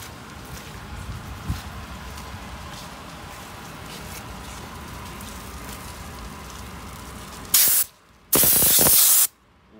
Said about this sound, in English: So we are using the shoe cleaner now.